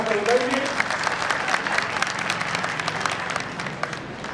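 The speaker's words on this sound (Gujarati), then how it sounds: "તાળીઓના ગગડાટથી આ કાર્યમાં આપણે વધારીએ" An audience at a religious discourse on the Shiv Maha Puran applauds with sustained clapping, a dense crackling patter of many hands holding steady for the whole stretch.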